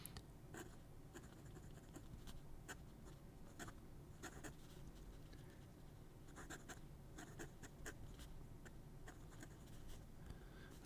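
A scratchy fountain pen drags across paper in short, irregular strokes and ticks, close and quiet against a faint background hiss.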